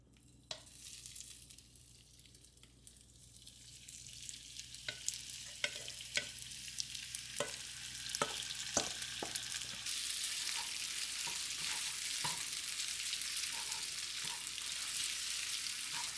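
Pork and celery stir-frying in oil in a pan, a steady bright sizzle that swells and stays loud, with scattered clinks and scrapes of a utensil stirring.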